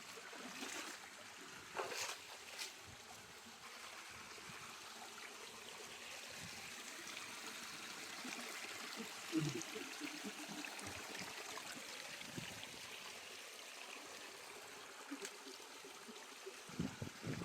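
A small waterfall flows with a faint, steady wash of water, trickling and splashing at a distance, with occasional light knocks and rustles nearby.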